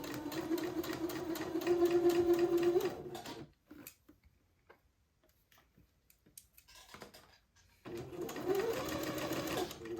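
A sewing machine stitches entredeux to ruffled edging for a christening bonnet in two steady bursts, a long run at the start and another after a quiet pause with small clicks and handling noises.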